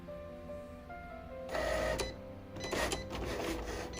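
A Cricut cutting machine measures and cuts vinyl with close mechanical whirring and buzzing, its motor shifting pitch as the carriage moves, then bursts into denser, rattling passes near the end.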